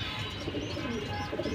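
A pair of Pakistani pigeons coo softly and continuously over a dense, steady background, the calls close and low-pitched with no one talking.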